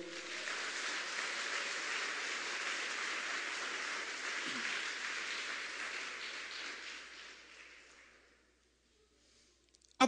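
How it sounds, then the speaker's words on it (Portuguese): A church congregation applauding during a sermon, steady clapping for several seconds before fading out into near silence. "Você pode aplaudir ao Senhor?"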